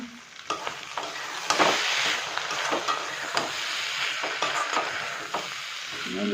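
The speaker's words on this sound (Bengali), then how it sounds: "তো আমি ভালো করে এটাকে এবারে কষে নিচ্ছি" Ritha fish eggs stir-fried with spices in a pan: a steady oily sizzle broken by repeated scraping, clacking strokes of a spatula against the pan, close and fairly loud.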